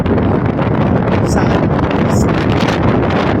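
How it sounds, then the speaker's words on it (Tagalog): Strong wind in Kuwait buffets the microphone in a loud, steady roar with gusty rustling throughout. "medyo mahangin nga dito sa may area"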